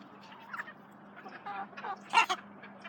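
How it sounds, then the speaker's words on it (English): Chickens being chased by a kid make short bursts of clucking and squawking, spaced irregularly over a steady low background hum and growing louder near the end. "He's really trying to catch chickens."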